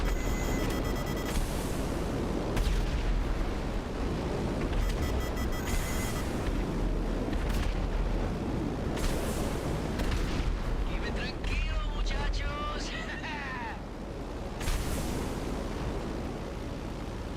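Heavy gunfire shoots at an aircraft in GTA V Online, a dense, continuous roar of booming shots with several sharp louder bursts over a constant rumble, mixed with game sounds and distant voices.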